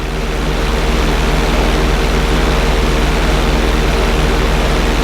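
A propeller plane's engine drones in GTA 5 while the aircraft performs barrel rolls, a loud, steady, close roar with a heavy low hum and broadband rushing noise that stays level throughout.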